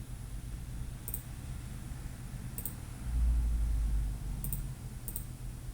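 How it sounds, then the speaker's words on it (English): Computer mouse clicking during work at a desktop, four faint, crisp single clicks spaced apart over a quiet background hum. "We will click on next"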